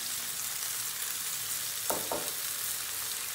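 Continuous frying sizzle of peppers in a pan as tomatoes are tossed in for a chicken in tomato sauce dish, with a couple of brief louder splashes near the middle and no talk.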